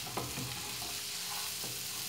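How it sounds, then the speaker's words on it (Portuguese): Okra frying over minimal heat in a pan without water, stirred now and then, giving a steady soft sizzle with occasional scraping stir sounds, close and moderately quiet, no talking. "Vai fritando ele aqui."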